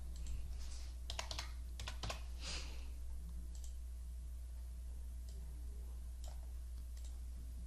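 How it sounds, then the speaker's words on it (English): Keys on a computer keyboard clack in quick bursts at close range, busiest in the first few seconds, then trail off into a few scattered taps over a low steady background hum. "From here, you would just type in your witness name"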